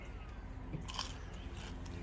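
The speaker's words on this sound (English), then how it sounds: "Listen to the crunch. You can hear it." Close, quiet crunching and biting as cooked sand fleas from a beach catch-and-cook are chewed, with a few brittle cracks around the middle over a low, steady background.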